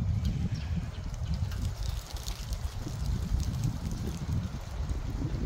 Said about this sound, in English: See, it's windy, all them leaves falling.